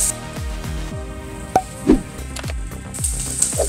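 Onion frying in a pan of oil for rasam, with steady sizzling throughout and a few close clinks of a utensil stirring or tapping the pan.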